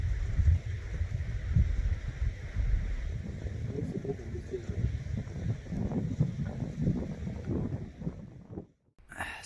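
Strong wind gusting steadily over a microphone at a campsite high in the Mercantour mountains in summer, a continuous low roaring buffet that rises and falls, then cuts out abruptly near the end.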